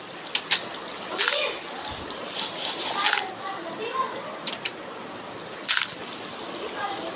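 Water splashes in a video game in several short bursts of varying loudness, while children talk excitedly over the sounds.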